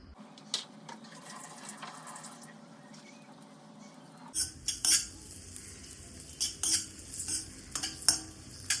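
Dates fry in ghee alongside roasted dry fruits for nachani ladoo, a soft sizzle under scattered spoon stirs and scrapes against the pan that grow sharper and more frequent in the second half.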